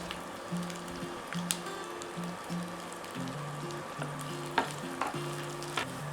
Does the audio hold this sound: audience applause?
no